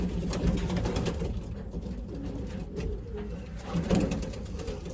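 A racing pigeon coos softly in a loft amid a constant low rumbling background, with a few faint coo phrases rising slightly near the start and around the fourth second.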